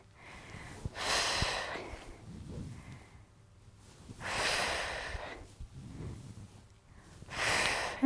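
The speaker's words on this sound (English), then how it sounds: "do an exhale as you come up, inhale as you come down" Heavy, rhythmic breathing during a dumbbell exercise outdoors: three strong, breathy exhales about three seconds apart, each followed by a quieter inhale, close and with no talk.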